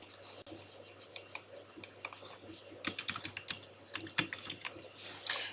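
Quick typing on a computer keyboard while editing an Excel worksheet, a run of light, close key clicks in uneven bursts, quiet overall.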